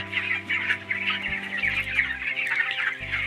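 Roosters and hens kept together on a poultry farm cluck and chatter continuously, many birds overlapping at close range with no talk.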